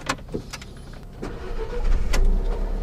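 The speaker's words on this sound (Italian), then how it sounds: "Metti il piede sul freno, tieni premuto e accendiamo." An Alfa Romeo 4C Spider starting up, a short cranking burst followed by the engine catching and rising into a steady, loud idle rumble close by, with no talk.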